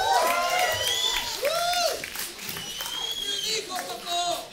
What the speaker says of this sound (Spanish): Quiero que le sigan con un fuerte aplauso al siguiente comediante